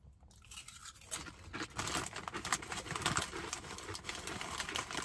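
Cheez-It Snap'd cheese and chilli crisps being crunched and chewed close up, a steady run of dense, crackly bites and mouth noises lasting several seconds with no talking.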